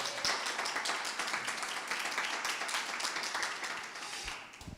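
Church congregation applauding in a sustained, dense burst of many hands clapping at once, continuing evenly for several seconds.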